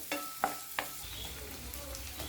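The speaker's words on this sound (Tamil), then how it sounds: "இப்போ வெங்காயமும் நல்லா வதங்கி வரட்டும்" Chopped onion and garlic fry softly in a pan, a low steady sizzle broken by a few light stirring clicks.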